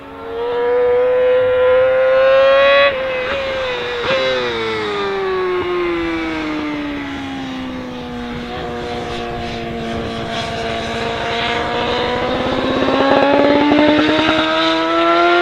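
A BMW HP4 Race motorcycle engine revs hard and loud at close range, its pitch climbing, dropping back and sweeping up again in a sustained high-rpm howl with no talk.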